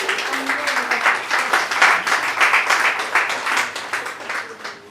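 A church congregation claps together during worship, a steady dense patter of many hands that carries on throughout, with voices talking and calling out over it.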